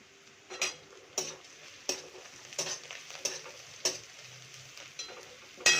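Onions fry quietly in a pan beneath a series of sharp, evenly spaced clacks from a spoon scraping and tapping as they are stirred, about one every half second.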